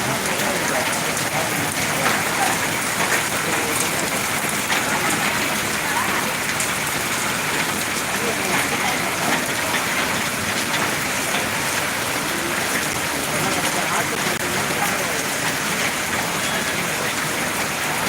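Steady rain pours down in Ariyalur, a dense continuous hiss of drops striking surfaces that holds an even, fairly loud level throughout with no pauses.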